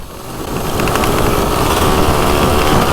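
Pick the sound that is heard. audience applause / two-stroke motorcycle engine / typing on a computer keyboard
two-stroke motorcycle engine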